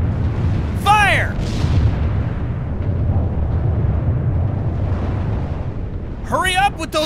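Artillery booming in the Order of War strategy game, a D-Day invasion battle: a steady, heavy low rumble of distant guns runs throughout, with brief voice calls near the start and the end.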